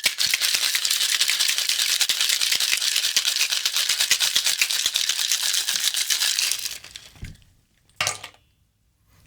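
A cocktail shaker is shaken hard to mix a Frosty Bazooka shooter, giving a loud, dense, continuous rattle of ice for about seven seconds. It then stops abruptly, followed by one short clatter.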